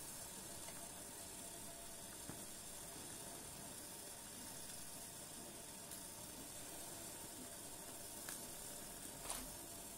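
A gas-fired Wilesco model steam roller's boiler heats up, giving a faint, steady hiss and simmering crackle with occasional small pops, close by and without talk.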